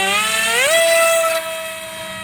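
An electric motor on an RC flying-wing plane (Drakplank) goes to full throttle, a close, high whine that rises quickly in pitch and then holds steady and loud, with no talk.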